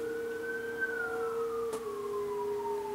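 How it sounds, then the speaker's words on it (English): A police or ambulance siren wails from a nearby highway, one steady tone with a slowly falling higher wail, moderately close and clear, with a brief sharp knock partway through. "Camera's probably picking up the police sirens or ambulance or whatever it is"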